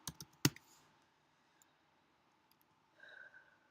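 A few keystrokes tapped on a computer keyboard while working in Photoshop, a cluster of sharp clicks near the start, then quiet room tone and a faint soft tail near the end.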